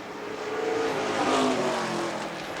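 Pro Stock race cars circle a speedway, a steady engine roar that swells slightly mid-way, heard from a distance with no voices.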